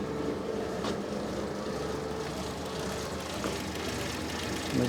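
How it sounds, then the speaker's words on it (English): A Renault 25 V6 Turbo engine with a smoking fault idles low and steady with a rough, rumbling drone and no voices. "It's idling very low."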